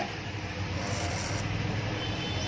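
A V-Guard voltage stabilizer with a sound fault gives off a steady, coarse buzzing hum after it is switched on, continuous and fairly close, with no one speaking.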